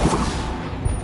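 Bombarda blast spell from the Hogwarts Legacy video game, a short dense explosive burst with a rumbling boom, loud and close, filling the whole moment without speech.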